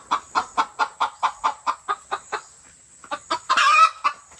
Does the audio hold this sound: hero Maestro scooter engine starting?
no